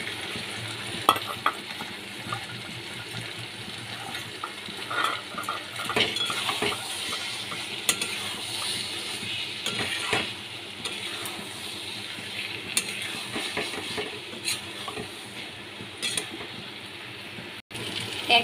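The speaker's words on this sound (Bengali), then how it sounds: "এর মধ্যে আমি কুচানো আলুগুলো, ভাজা আলুগুলো দিয়ে দিচ্ছি।" Fried potatoes stirred into a simmering pot of kabuli chickpea curry, giving steady sizzling and frying with repeated spoon scrapes and clinks against the pan. The sounds are close and continuous, with no talking.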